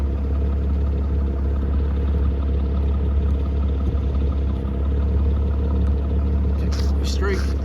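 Straight-piped engine of a Mercedes W203 running close by, a steady loud drone with low rumble and some clatter that holds rather than climbing into distinct rev steps; faint voices underneath.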